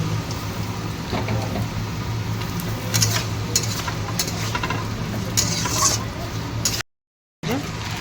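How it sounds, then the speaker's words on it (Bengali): Potatoes fry in hot oil in a wok, giving a steady, close sizzle with scraping stirring strokes throughout, then a brief dropout near the end. "প্রথমে তেলে আলু দিয়ে দিলাম, আলুটা একটু ভাজাভাজি করি"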